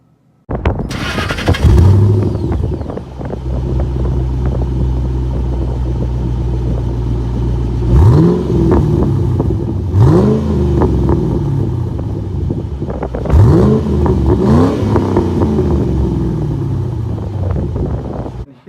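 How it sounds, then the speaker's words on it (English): A Ford Mustang engine cranks and fires up, then settles into a deep, close idle broken by several sharp throttle blips, each revving up and falling back. "Here's the Mustang."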